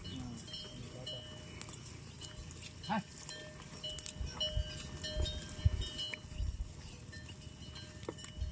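Cattle being herded outdoors at a Jallikattu bull event, heard as faint, scattered livestock noises and soft hoof-like thumps over a quiet rumbling background, with indistinct voices now and then.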